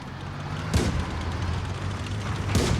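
Two heavy booming tank cannon blasts in World of Tanks Blitz, each a sharp loud burst followed by a rumbling decay over a steady low background hum.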